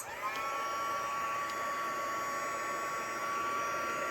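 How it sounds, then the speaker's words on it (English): An embossing heat tool blows with a steady, loud whirring roar and a high whine, continuous from start to finish with no voices. "So I do have my heat tool over here."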